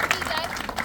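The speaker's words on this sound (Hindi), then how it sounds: "तालियां बजा दो जोर से।" A crowd claps along through a religious discourse, a steady dense wash of applause with the speaker's voice faintly mixed in.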